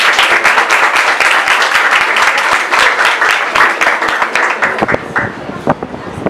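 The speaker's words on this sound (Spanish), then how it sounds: "Un aplauso, por favor." Steady applause from an audience at a sustainable development forum as a speaker is introduced, dense and continuous, with clapping thinning out toward the end as a few sharper individual claps stand out.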